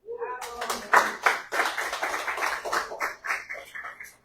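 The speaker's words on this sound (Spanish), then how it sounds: "Dale un aplauso" Scattered hand claps from a church congregation ring out over talk and cheering voices, fairly close and lively, fading into continued chatter after a few seconds.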